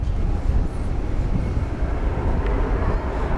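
An American Airlines Airbus A321 departing DFW for Denver: a steady, broad low rumble of jet engines, fairly loud and constant throughout, with a wind-like wash and no talk.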